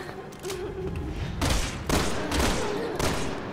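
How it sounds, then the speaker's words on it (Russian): Rapid gunfire bursts from the video game Resident Evil 6, loud and dense, with several heavier volleys over a constant rumbling game background. "Угадай, куда я стреляю."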